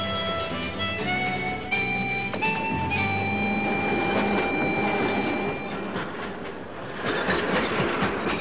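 The Cairns Kuranda tourist train running on its rails in North Queensland in 1987, with a continuous metallic rumble, squealing wheel tones and rhythmic clicking of wheels over rail joints, loud and close throughout.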